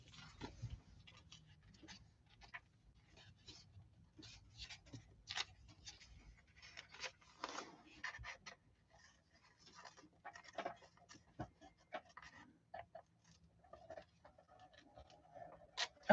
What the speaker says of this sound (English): I'm going to need smaller scissors for this